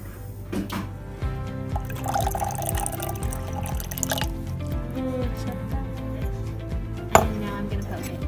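Sodium carbonate and copper sulfate solutions, 50 milliliters each, are poured together and mixed in a container, giving gurgling, dripping liquid sounds with a faint glassy clink near the end.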